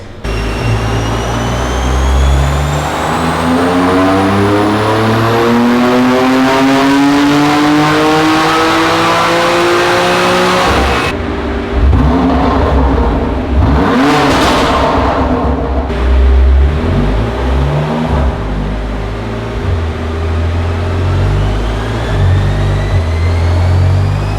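A tuned BMW M2 Competition screams through a long wide-open pull on a dyno, its pitch climbing steadily before cutting off, then idling and blipping lower, very loud and close with no voices.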